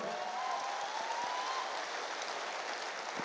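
Loud, dense applause from a seminar audience for a network-marketing speaker, a steady crackling roar of clapping hands that holds evenly for the whole stretch with no voices over it.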